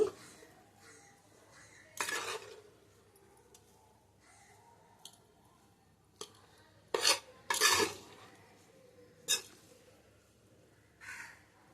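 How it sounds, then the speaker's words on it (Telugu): A metal spatula scrapes and clinks intermittently against a pan as rice for a fried prawn fried rice is stir-fried, with quiet gaps between sharp strokes. "సిమ్లో ఉంచుకొని కాస్త రైస్ని కూడా బాగా వేగించుకోవాలి"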